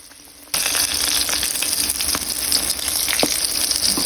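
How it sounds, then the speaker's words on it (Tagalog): Bangus (milkfish) steaks frying in hot oil, a loud steady sizzle that bursts in suddenly after a quiet start and crackles continuously to the end. "Antayin lang natin ito mga kaulam ideas na maprito yung mga bangus."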